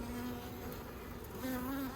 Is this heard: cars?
no